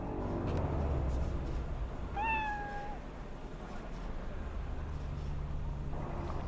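A cat meows once in Cyberpunk 2077, a single clear rising-then-falling call in the middle, over steady low game ambience and engine-like rumble, with no talk.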